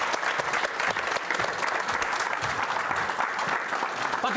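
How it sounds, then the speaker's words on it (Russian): A packed studio audience at a football talk show claps loudly and continuously, a dense crowd wash of applause without pause. "Под ваши аплодисменты у нас полная трибуна."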